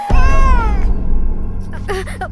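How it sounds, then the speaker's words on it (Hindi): A loud, drawn-out cat meow up close, falling in pitch, followed by a couple of shorter mews. "बिल्ली।"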